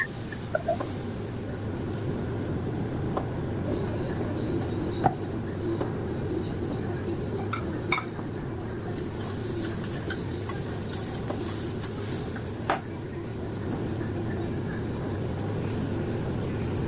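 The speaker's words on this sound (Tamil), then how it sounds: "அந்த தோசை ஊற்ற போகிறேன்." Pearl millet dosa batter is poured onto a hot pan in a home kitchen, making a continuous soft sizzle with scattered light clicks and scrapes at a moderate, steady level.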